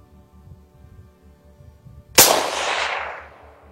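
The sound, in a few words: rifle shots fired from a Bog shooting stick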